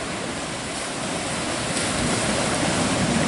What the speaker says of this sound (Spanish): Vemos la ola como continúa andando.